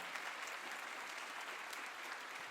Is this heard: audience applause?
yes